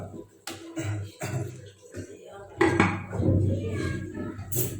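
A lid is set over a cooking pot in a home kitchen, giving a couple of clanking metal knocks among pot and utensil sounds, under bursts of nearby talk.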